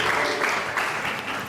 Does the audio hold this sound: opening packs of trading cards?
no